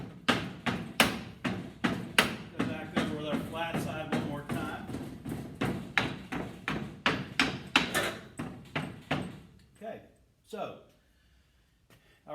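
Sand being rammed into a foundry mould for casting aluminium, a steady run of loud, close thuds roughly every half second that thins out to a few scattered blows near the end.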